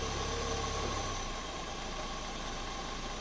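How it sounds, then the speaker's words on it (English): A car engine with Bosch CIS fuel injection idles steadily in gear, a low even hum that dips slightly in pitch partway through, with no talking. "control pressure can actually affect how this engine idles under load"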